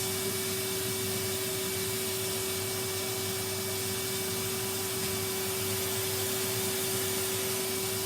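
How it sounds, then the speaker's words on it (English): A vacuum cleaner runs steadily at a low level, a continuous hum with one strong tone and a broad hiss. It is cleaning a floor near stairs in a home. No talking is heard. "that's why I'm vacuuming the knickers"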